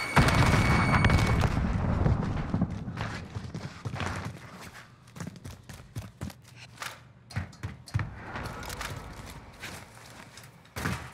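Frag grenade blast followed by bursts of gunfire in the battle royale video game Call of Duty Warzone, a loud opening boom that decays into scattered, sharp shots and clatter of varying loudness.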